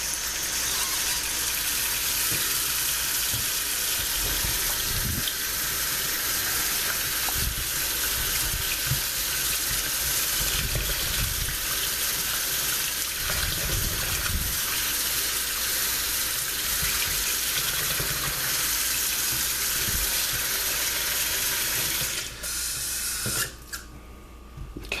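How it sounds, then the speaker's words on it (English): Cool tap water runs steadily for a long stretch to rinse lima beans in a kitchen sink, a broad continuous splashing hiss that cuts off near the end. "Okay, we're going to just rinse these off really well."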